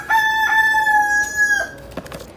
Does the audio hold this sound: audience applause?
no